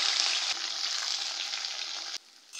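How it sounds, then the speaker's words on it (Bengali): Bitter gourd pieces hit hot oil already seasoned with whole cumin seeds and dried red chillies, giving a loud, steady hiss that dips briefly near the end and then swells again. "উচ্ছেগুলোকে ভেজে নেব"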